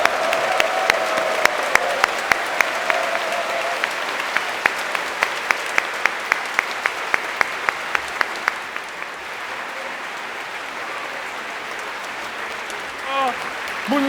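Applause from a standing congregation welcoming the True Parents at a dedication ceremony, a dense crowd clapping with sharp claps near the front, steady for about nine seconds and then thinning out.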